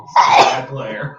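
One loud close sneeze that bursts out sharply and trails off into a brief breathy tail, with a voice talking over it.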